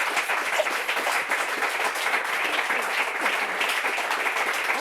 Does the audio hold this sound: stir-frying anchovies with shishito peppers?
no